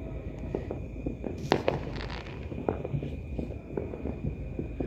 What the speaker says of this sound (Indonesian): Wih, petasan